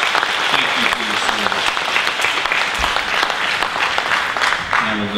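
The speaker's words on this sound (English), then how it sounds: "I would just like y'all to recognize these guys with a round of applause" A church congregation gives a round of applause during a Sunday service, brisk continuous clapping that fills the room for several seconds, with a few voices faintly audible beneath it.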